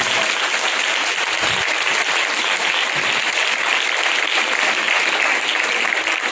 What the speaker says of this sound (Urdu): تو تالیوں سے پتا چلے گا